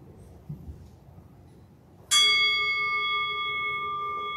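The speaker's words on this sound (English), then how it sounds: "you ready to ring the bell?" A single bell is struck at a ceremony, giving one sharp clear strike that rings on with a sustained, slowly fading tone after a quiet lead-in.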